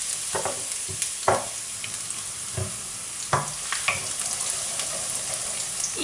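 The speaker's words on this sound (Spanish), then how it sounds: "Ponemos los ajos. Que vaya soltando en este aceite" Garlic sizzles steadily in hot oil in a home-kitchen pan, a continuous close fry broken by a few light stirring clinks and scrapes, with no talk.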